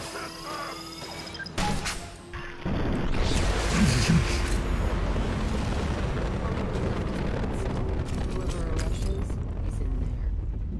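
A nuke launcher fires in the video game Mass Effect 2: a sudden loud blast swells into a sustained, roaring rumble of explosion that fills the rest of the clip.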